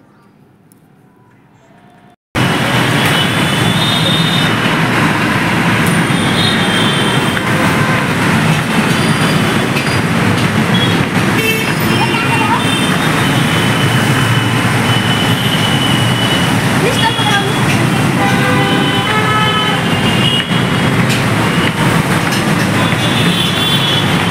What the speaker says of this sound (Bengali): উপর দিয়ে দেখো মেট্রো চলে, নিচ দিয়ে গাড়ি।